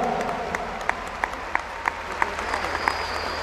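At a concert in Cajamarca in 2019, an audience claps in a steady unison rhythm to honour a painter, the crisp beats sounding over a low room hum and faint crowd murmur.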